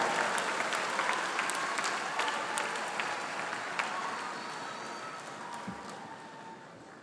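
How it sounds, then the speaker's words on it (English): Applause for graduates at the Cox School of Business 2023 graduate commencement ceremony, a broad crowd clapping with crisp individual claps, gradually fading over several seconds. "One more round of applause for the 2023 graduates of the Online MBA Direct program."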